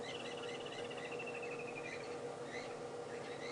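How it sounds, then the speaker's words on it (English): Foam nest frogs calling at dusk during a sunset safari drive, a faint chorus of high, rapid trilling notes over a low steady hum, distant and quiet. "Sounds like it's maybe foam nest frogs that are making all that ruckus"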